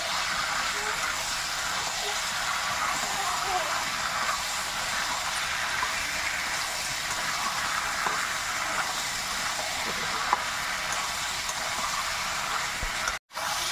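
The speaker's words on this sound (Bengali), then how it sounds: "ভেজে রাখা আলুগুলো ওপর থেকে দিয়ে দেবো, দিয়ে আর একটু ভালো করে কষে নেব" Fried potatoes are added to a country chicken curry and stir-fried, giving a steady, even sizzle with faint stirring that runs unbroken and cuts out abruptly near the end.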